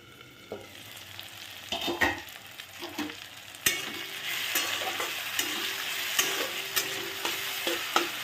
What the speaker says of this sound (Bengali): এই যে ভাজা হচ্ছে এগুলো